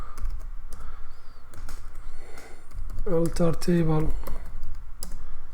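Computer keyboard typing SQL Server code, scattered key clicks heard under a voice speaking briefly in the middle.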